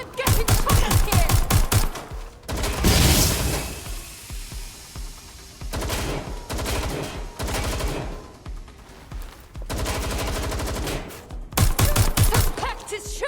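Video game gunfire in Watch Dogs Legion: loud rapid bursts of automatic fire in clusters with short pauses, a few single shots between, under game audio and intermittent shouting voices.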